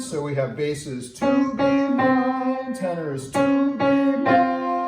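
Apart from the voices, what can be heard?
None of the usual background noises is heard.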